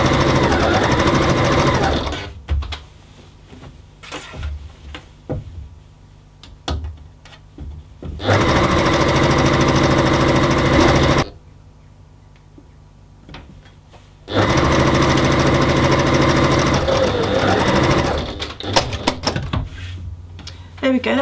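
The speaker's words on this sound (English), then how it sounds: "that's nearly all the sewing done" Sewing machine stitching the fabric edges of a scarf in loud bursts of rapid rhythmic clatter, three long runs separated by quieter pauses with handling noises.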